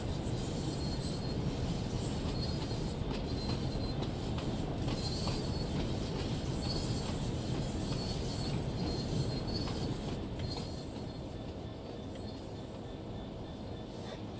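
A steady, loud rumble of a train rolling along the rails in the video game Train Sim World 6, with high metallic wheel squeal running over it throughout.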